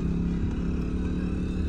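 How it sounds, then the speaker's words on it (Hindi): Motorcycle engines droning steadily and fairly loud on a steep mountain descent near Kasol toward Manikaran, a continuous low rumble with no gaps. "बाइक आ रही हैं, बाइक वाले भाई निकल जाएं उसके बाद हम निकाल लेंगे।"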